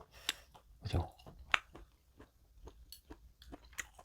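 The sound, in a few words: chewing seafood jjamppong noodles with shrimp and squid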